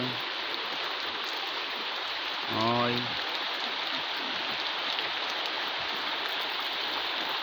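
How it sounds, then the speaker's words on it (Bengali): Heavy rain pours down steadily on a damaged house during a downpour, an even, dense wash of drumming that fills the whole stretch, with a brief voice cutting in partway through. "কত বৃষ্টি এখনো হইতে আছে।"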